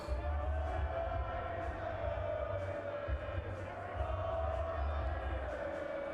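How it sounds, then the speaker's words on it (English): A large stadium crowd at a rugby league grand final between Ryde and Cronulla keeps up a distant, steady roar with faint cheers rising and falling, heard beneath a commentator's voice. "Listen to the crowd in the background."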